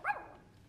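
A dog gives a single short, sharp bark close by, rising and quickly fading, followed by a quiet room.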